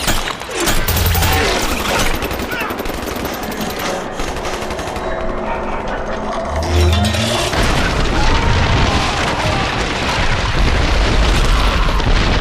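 A cannon blasting a compound's defensive wall in the video game Wolfenstein, heavy booming explosions layered over machine-gun fire and crashing debris, loud and continuous throughout.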